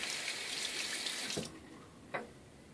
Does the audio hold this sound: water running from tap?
yes